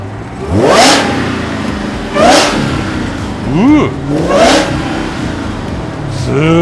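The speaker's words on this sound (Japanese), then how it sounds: "スーパーチャージャーの音がすごいですね。" Supercharged 840 hp muscle car accelerating hard, with several loud swelling bursts of engine roar and rising supercharger whine. Each burst climbs and fades, close and powerful, with occasional speech.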